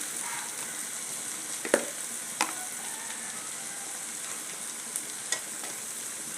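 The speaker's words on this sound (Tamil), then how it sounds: "தக்காளி நல்லா வதங்கிடுச்சு" Tomatoes for egg gravy sauté in a pan with a soft, constant sizzle, broken by a few sharp clicks of a spoon against the pan.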